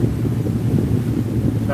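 Steady wind blows across a boat under way, a constant low rumble of gusting air and motor drone filling the whole stretch with no break.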